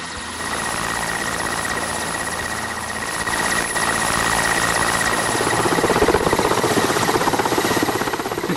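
A helicopter flies away in mountainous terrain, its steady engine whine and rapid rotor chop loud and close, the thudding beat growing more pronounced over the span, with no talk.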